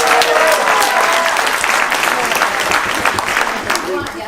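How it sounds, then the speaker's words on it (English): Audience applause at a school Creatathon event, following thanks to a computer science teacher: dense, steady clapping from a crowd of people, loud and close, with a few cheering voices mixed in throughout. "So give them a round of applause."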